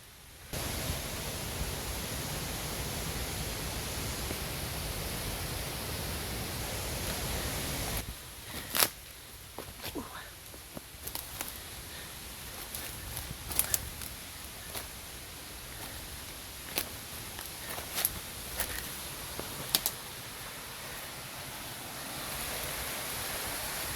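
Rushing water from a jungle waterfall roars as a steady broadband wash, loud at first, then softer under scattered footsteps and knocks as the trek continues, swelling again at the end.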